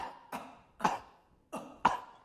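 A voice imitates a chimpanzee's cough grunt: four short, breathy, rasping bursts spaced roughly half a second apart, close and moderately loud.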